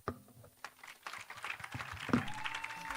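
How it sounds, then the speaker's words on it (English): Audience applause at the closing of a regional youth summit, quiet at first and then building into steady, fairly distant clapping from a seated crowd, with a faint tone running beneath it. "Round of applause, ladies and gentlemen."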